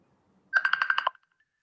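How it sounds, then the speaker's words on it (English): A telephone rings in a short burst of about seven rapid electronic pulses, fairly close and clear, with a quiet room around it and nobody speaking. "Someone's phone is ringing."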